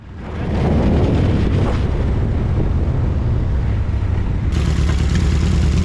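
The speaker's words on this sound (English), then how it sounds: "This is a Reinhardt exhaust, and it just sounds incredible." An American Eagle XRX Talon motorcycle with a Reinhardt exhaust roars loudly and steadily up close, its deep exhaust rumble holding constant throughout.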